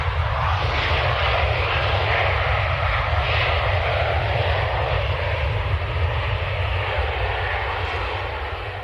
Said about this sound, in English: Ryanair from Lanzarote